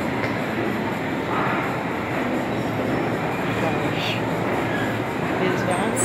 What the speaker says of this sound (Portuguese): Estação de metrô, aqui embaixo.